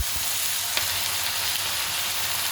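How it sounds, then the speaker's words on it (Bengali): Onion frying in hot oil with onion paste and ginger-garlic paste, a steady dense sizzle heard up close and fairly loud, with a faint clink early on and no talk. "পেঁয়াজ একটু ভেজে নিয়ে তার মধ্যে 1 টেবিল চামচ পেঁয়াজ বাটা ও 1 টেবিল চামচ আদা ও রসুন বাটা দিয়ে দিলাম"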